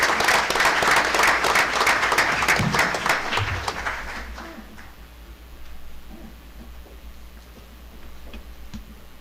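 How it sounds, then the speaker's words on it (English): An audience at a Calhoun County Schools ceremony claps loudly for several seconds, then the applause thins out to a few scattered claps in a quiet room. "Let's give these guys a round of applause."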